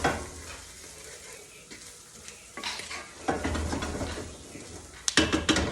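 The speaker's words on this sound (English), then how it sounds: "So now I'm gonna add the rice, the Aborio. And I like to get nice and toasted." Arborio rice stirred and toasted in a hot pan for mushroom risotto, a steady dry sizzle with scraping spoon strokes that grow louder and busier midway, ending in a few sharp clinks against the pan.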